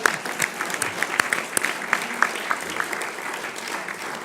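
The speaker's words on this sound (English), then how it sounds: "how about a round of applause for our speaker" A lunchtime audience at the National Press Club bursts into spontaneous applause for the speaker, steady clapping from a room full of people that holds at an even level throughout with no voices over it.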